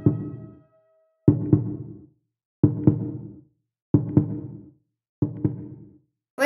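A slow heartbeat repeats five times at steady intervals, each a deep, close double thump with a quick fading tail, separated by silence.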